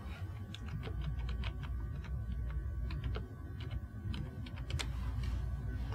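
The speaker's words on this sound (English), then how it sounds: "we simply type the name for the first name box and the last name" A student's name typed on a computer keyboard: a steady run of close, light key clicks with short pauses, over a low constant hum.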